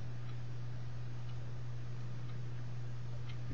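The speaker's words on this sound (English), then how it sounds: "I can hear the clock ticking." An indoor clock ticks faintly and evenly in a quiet room, soft regular clicks sitting over a steady low electrical hum, with no talk.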